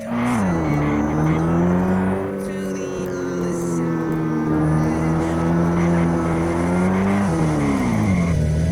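A car drives in a video game with a steady, loud engine drone whose pitch rises and dips as it speeds up and slows, continuous and close throughout.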